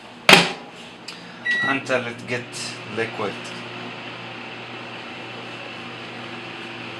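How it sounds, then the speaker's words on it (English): A microwave oven hums steadily while melting Lotus spread, with a door clunk and button beeps at the start, and speech over the early part before the hum runs on alone. "I'm gonna put it in the microwave"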